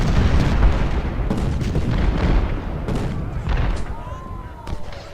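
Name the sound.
troops firing in video game Ultimate General: Civil War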